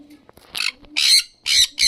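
Pet sun conures and lovebirds give a few loud, harsh squawking calls in quick succession, close by, with small clicks and rustles in between.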